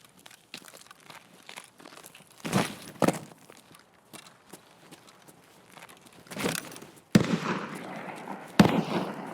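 Sniper scav gunshots ring out in Escape from Tarkov. Several sharp cracks land a few seconds apart over faint rustling and footsteps, with the last ones louder and more resonant.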